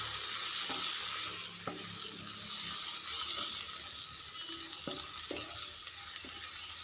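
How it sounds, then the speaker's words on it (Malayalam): Onions, spices and asafoetida sautéing in a pan for masoor dal, a steady broadband sizzle with scattered soft stirring clicks and scrapes, moderately close and continuous, with no talking. "നന്നായിട്ടൊന്ന് വഴറ്റി കൊടുക്കാം"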